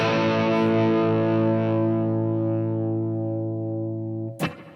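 A PRS SE245 Standard electric guitar played through a Line 6 HX Stomp amp model set at the edge of breakup with a touch of reverb, picked hard: one loud, slightly gritty chord rings out and slowly decays, then a brief scrape at the end.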